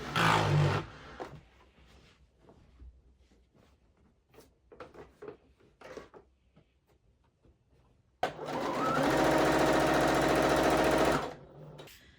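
A sewing machine stitches the two fabrics of a quilt bag together in one steady, loud run of a few seconds, preceded by quieter handling clicks and fabric rustles.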